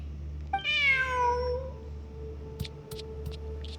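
A cat in the video game Genshin Impact gives one clear, drawn-out meow that falls in pitch, followed by a few faint clicks and a soft background hum.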